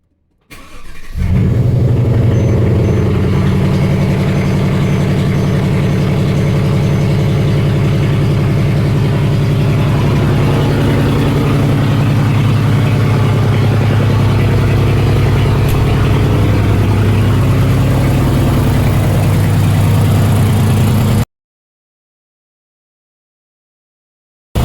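A Mercedes CLS 550 (W218) with the M278 engine, just fitted with a new fuel pump, cranks and catches, then settles into a steady, close, loud idle for about twenty seconds with no talking.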